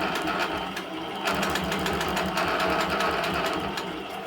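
A quilting sewing machine runs continuously without stopping, a steady rapid mechanical whir and needle chatter, close and even in level throughout.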